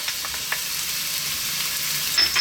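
Sliced white onion and garlic frying in olive oil, a steady soft sizzle with faint stirring ticks close by, no talk.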